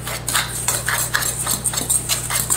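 Dry crumble ingredients are stirred together in a bowl for apple crumble, giving a steady run of scraping, rattling utensil strokes against the bowl, close and fairly loud, with no talking.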